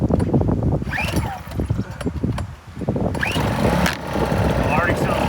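An AIVOLT 1600-watt inverter generator engine runs steadily at close range with eco mode off, a continuous droning hum under people talking throughout.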